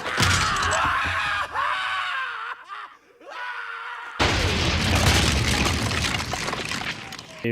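A movie explosion from the 1992 film Army of Darkness: screams and groaning tones give way to a sudden loud boom and a sustained, roaring blast.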